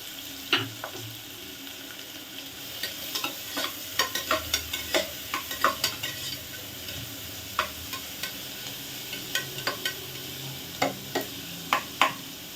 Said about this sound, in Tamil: இந்த எண்ணெய் காஞ்ச உடனே இந்த வெங்காயத்தை சேர்த்துக்கலாம்.